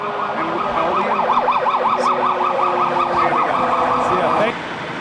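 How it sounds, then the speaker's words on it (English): Several emergency vehicle sirens wail with a steady rising-and-falling pattern near MIT, loud and continuous for most of the clip before cutting off near the end, over a background of city traffic. "There was a flurry of sirens heading away from MIT"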